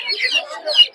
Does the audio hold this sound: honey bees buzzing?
no